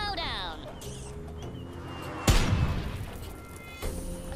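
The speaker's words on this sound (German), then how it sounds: "Ich werde versuchen, hier mit einem gezielten Schuss" A sharp, loud blast from an aimed shot in the video game Worms: Clan Wars suddenly cuts in partway through, ringing out with a rumbling tail, then a smaller thump follows near the end.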